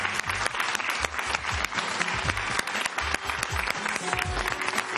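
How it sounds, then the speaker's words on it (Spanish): A studio audience applauds at a television interview, a busy stream of overlapping claps with sharp individual hits standing out, moderately distant and fairly soft. "pide un aplauso"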